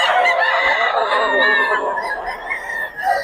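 Several chickens cluck and squawk up close at a market in Bocaue, Philippines, a busy, overlapping chorus of fowl calls filling the whole moment.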